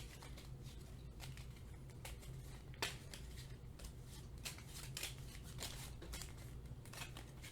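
Pandemic: Rising Tide game cards being shuffled, soft repeated riffling and slapping of card stock in quick bursts, quiet and close, with no talk.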